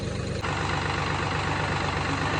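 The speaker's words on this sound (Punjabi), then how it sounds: "ਟਰਾਲੀ ਕੱਢ ਕੇ ਆਪਾਂ ਟਰੈਕਟਰ ਲਾ ਦਈਏ ਅੰਦਰ" A tractor engine idles steadily at close range, a deep continuous diesel rumble that holds even throughout, with a brief dip near the start while a trolley is being unhitched; no voices are heard.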